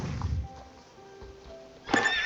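Horse in the video game Star Stable Online rears and neighs, a loud whinny bursting in near the end after quieter hoof clops and faint tonal game sounds.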